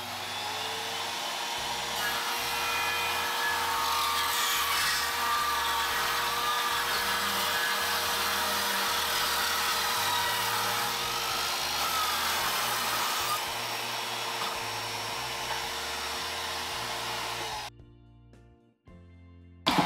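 A circular saw riding along a guide rips through a wooden board with a loud, steady, high whine that holds for about seventeen seconds before the motor stops abruptly, leaving a few faint clunks.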